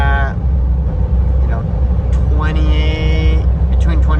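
A Jeep geared with 5.13 gears cruises on the freeway at about 70 mph, its steady road and engine drone filling the cabin while a person talks over it throughout.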